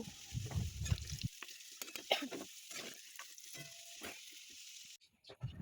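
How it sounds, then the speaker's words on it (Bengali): Diced potatoes frying in oil in a wok, a steady close sizzle with stirring scrapes, quieter toward the end. "এরপরে আমি ডুমডুম করে কেটে রাখা আলুটাকে লাল করে ভেজে নেব"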